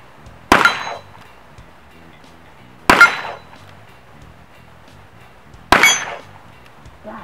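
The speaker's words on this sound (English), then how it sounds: "Let's take some shots at this steel plate over here." Shots from a scoped Smith & Wesson 686 revolver ring off steel plates of 6, 8 and 10 inches: three sharp, loud metallic clangs a few seconds apart, each with a brief ringing decay.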